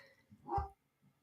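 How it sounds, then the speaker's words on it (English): A single short dog bark sounds faintly in a quiet room, brief and somewhat distant. "Sorry about my dogs."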